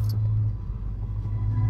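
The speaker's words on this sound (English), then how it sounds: "So my dad's just driving right there." Engine rumble inside a moving Ford Mustang, a steady low drone filling the cabin throughout with no talk over it.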